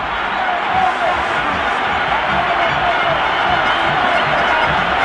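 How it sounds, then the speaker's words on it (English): Football crowd in a packed stadium in Quito during Ecuador versus Bolivia, roaring loudly and steadily as a dense wash of cheering and noise with no pauses. "The crowd here in Quito going absolutely mad."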